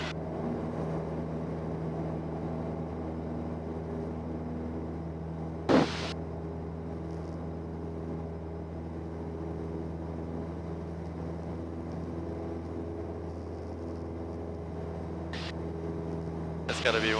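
Cessna 172 engine holding a steady low drone through takeoff roll and climb, a constant hum with a few brief clicks or bumps, voices talking over it.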